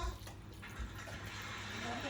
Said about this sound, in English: So this is when you add your gravy. And you just pour it on in there.